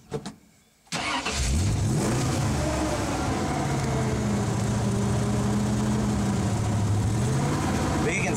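A lifted 1948 Ford F1 4x4 pickup with a 351M engine cranks and fires up after a brief quiet moment, then runs loudly with rising revs, close and dominant.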